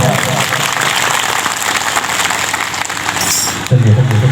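An audience at a prayer gathering claps in a dense, steady burst that stops abruptly near the end, after which a voice and low sounds follow.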